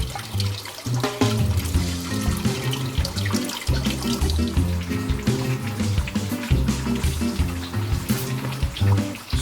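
Water from an adjustable drip irrigation emitter in a greenhouse strawberry setup flows steadily and loudly in a continuous splashing gurgle, with no voices.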